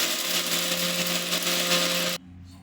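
A mixer grinder grinding roasted gram whirs loudly at a steady high pitch for about two seconds, then cuts off abruptly, leaving a fading hum.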